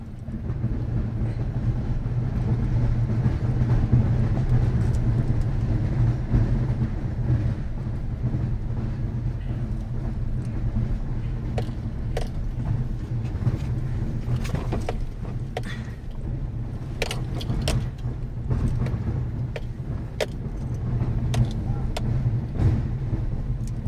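Interior of a moving car, a steady low rumble of engine and road noise lasting the whole stretch, with scattered faint clicks and knocks and no clear talking.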